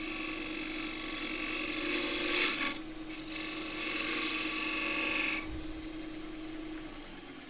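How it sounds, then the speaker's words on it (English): Spindle gouge of 3/8 inch cutting against the grain of spalted wood on a lathe, a steady rasping scrape with a humming motor, easing twice and swelling again, no voice. "3/8 spindle gouge, and gently cutting against the grain"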